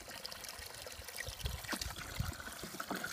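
Water pours and trickles into a Little Tikes Fish N Splash children's water table, a soft, faint, uneven splashing and dribbling heard up close.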